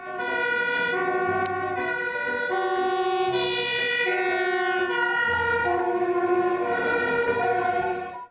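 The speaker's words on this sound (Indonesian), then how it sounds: "Yang terakhir ada mobil pemadam kebakaran." A toy fire truck plays an electronic siren, a loud, close melodic wail of stepped tones cycling up and down continuously without pause, with no talk over it.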